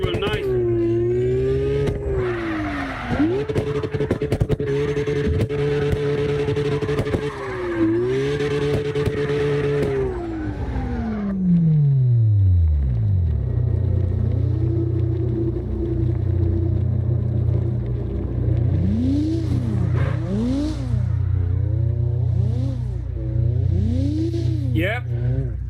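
A drifting car in the CarX Drift Racing Online video game, its engine revving up and down in sweeping rises and drops with tire squeal, loud and continuous, with a voice talking over it in places.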